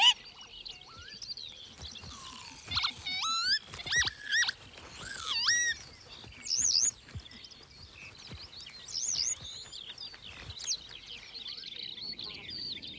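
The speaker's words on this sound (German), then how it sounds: "Hoch über der Feuchtwiese singt ein Feldlerchenmännchen scheinbar unaufhörlich." A male Eurasian skylark sings high over a wet meadow, a long run of rapid warbling, trilling and chirping phrases that carries on without pause, close and moderately loud against a faint outdoor background.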